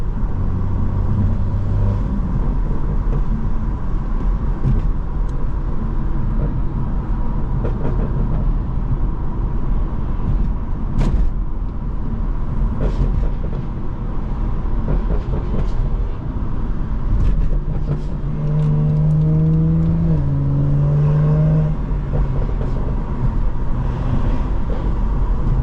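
BMW 440i driving after a fresh oil change, with a steady low engine and road rumble continuing throughout and a voice speaking briefly over the cabin noise.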